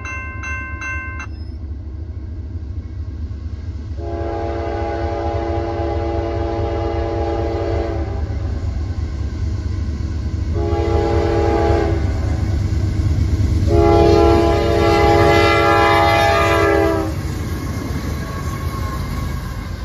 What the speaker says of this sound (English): we were back in Lacarne to catch this westbound NS Intermodal